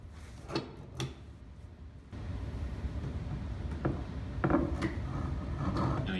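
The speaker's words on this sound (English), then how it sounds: "The upper clamps are added," Upper parallel clamps clatter into place on a wooden panel glue-up for four-way clamping, with a few sharp metallic clicks and ratcheting knocks over a steady low rumble, close and moderately loud, no talking.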